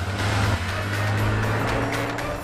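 Car engine droning steadily with a low sustained tone that rises slightly after the first half second, moderately loud and continuous, suggesting a car speeding up.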